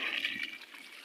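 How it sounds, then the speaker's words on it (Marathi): Water is poured onto a newly planted grafted sapling in a farmhouse garden, a brief soft rushing splash that fades after the first half second. "कलम त्याला पाणी घालत आहेत."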